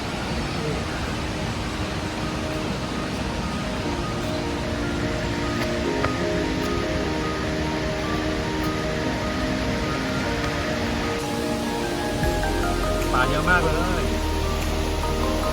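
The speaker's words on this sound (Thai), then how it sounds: "นี้คือที่น้ำตกชั้นหนึ่งนะครับ" Waterfall at a tiered falls in Songkhla, Thailand, a constant broadband rush of falling water, loud and steady throughout, with a low hum added near the end.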